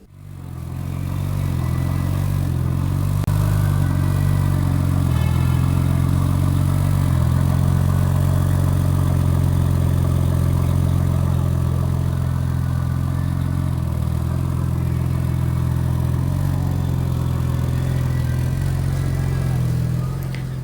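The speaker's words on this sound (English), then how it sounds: "Just listen to the sound of this M4 2014 model BMW M4 Coupe MDCT." A 2014 BMW M4 Coupe with MDCT gearbox idles with a deep, steady engine rumble that stays loud and close after starting up, with slight swells in the tone and no talking.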